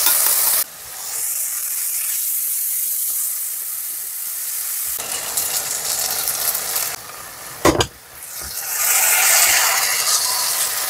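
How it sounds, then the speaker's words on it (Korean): Meat and vegetables stir-fried over high heat on a gas stove for jajang sauce, with loud continuous sizzling and hissing, briefly quieting, then returning with clattering stirring and a sharp knock. "센 불에 볶아주세요, 센 불에. 그래야 채소 수분이 날아가요."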